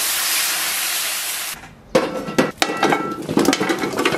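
Water poured into a hot wok of pig trotters for a braised dish gives a loud, close, steady sizzling hiss for about a second and a half, then utensils clatter and scrape against the pan.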